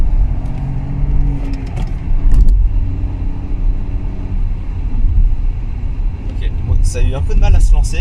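A 2018 Peugeot 3008 with a 1.2 PureTech 130 hp petrol engine accelerates from inside the cabin, a close engine rumble rising and falling, with clicks and brief noises near the end.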